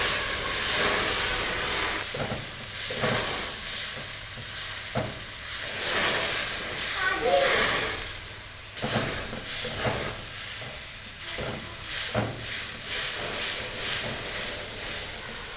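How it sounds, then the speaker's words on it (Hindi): Onions and tomatoes fry in a pan with a steady, loud sizzle and hiss, broken by periodic scraping stirs that briefly swell and dip the sound. "प्याज को हम इतना फ्राई करेंगे कि ये नरम हो जाएं"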